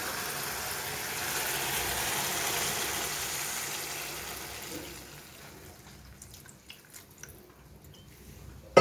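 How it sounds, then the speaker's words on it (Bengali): Water is poured into a pan of cooked spice masala with melted tomato for a potato curry, a steady close rushing splash that fades out after a few seconds, followed by faint drips and light clatter. "এবারে আমি ঢেলে দেবো জল"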